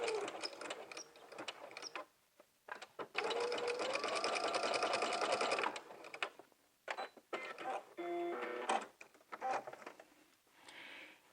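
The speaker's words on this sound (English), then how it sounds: "I'm going to backstitch over that strap for security," A sewing machine backstitches over a jumpsuit strap, running in several loud bursts of rapid stitching separated by short pauses, including one long steady run and a few quick stops and starts, close up.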